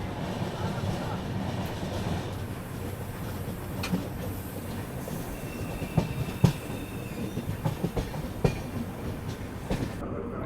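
Varanasi–Pune Gyan Ganga Express rolling along the rails near Pune, a steady low rumble of wagons with occasional sharper clanks and wheel knocks toward the end, sustained and fairly close.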